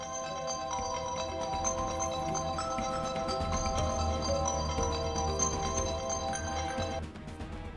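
Phone ringtone late at night in a Hindi TV drama, a steady tonal melody of layered chimes over a low music bed, sounding continuously for about seven seconds before cutting off.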